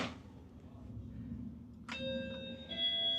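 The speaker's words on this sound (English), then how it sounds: "And that is the doorbell." A front-door doorbell in a luxury model home chimes once, a bright ringing tone with lingering overtones that sounds partway through and then a second tone sounds shortly after, over a quiet low room hum.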